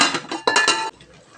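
A metal lid clanks onto a cooking pot of paklay stew with a few quick clinks and rattles, then settles into quiet.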